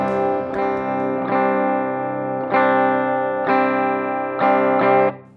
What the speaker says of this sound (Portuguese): esse aqui é o som limpo da guitarra